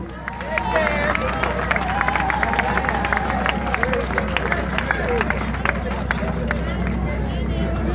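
Steady applause from a crowd at an outdoor political rally for APNU+AFC and WPA, continuous dense clapping with a background hubbub of voices throughout.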